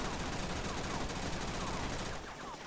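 Rapid gunfire in the Roblox video game Regretevator, a dense continuous burst of shots that fills the whole moment before thinning slightly at the end.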